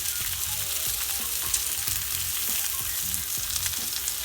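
Garlic herb lamb chops sizzle in a pan with a steady, close, bright crackle and a spattering hiss, with faint low taps recurring underneath and no speech.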